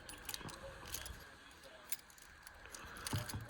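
Truck keys jingling on a keychain with a magnetic quick connector, light metallic clinks scattered across the clip, close but soft.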